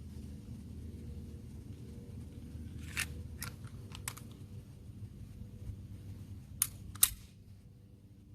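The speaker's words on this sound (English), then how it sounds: "pull it back, rotate the lever, slide comes off, barrel, recoil spring, and your frame assembly" A Sig Sauer P226 X-Five CO2 BB pistol being taken apart, with a handful of sharp metallic clicks and snaps from the slide, lever and spring scattered over a low background hum, close and distinct, no talking.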